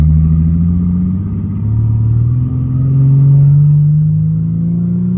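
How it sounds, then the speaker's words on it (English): An Infiniti G37 with a revamped drivetrain accelerates hard on the road, its engine note climbing in pitch, dipping briefly at a shift, then rising again, loud and close throughout. "It accelerates better for sure"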